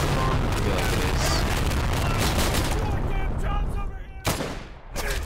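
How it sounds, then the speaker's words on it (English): Carpet bombing in a WWII tactical shooter game: a dense, continuous roar of overlapping explosions and rumbling blasts, loud and sustained, then thinning into a few separate sharp bursts at the end. "Is that our carpet bomb? I feel like it is."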